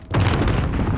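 Loud, heavy explosive boom from blasting in Call of Duty Warzone, a dense low rumble that sets off almost at once and sustains for about a second.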